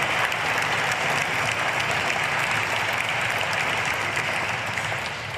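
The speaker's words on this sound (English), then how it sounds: "can I get one more round of applause for these wonderful students, teachers, and staff, and admin that are here?" A ribbon-cutting audience of students, teachers, staff and admin claps in a steady, dense round of applause that holds loud and even throughout, easing slightly near the end.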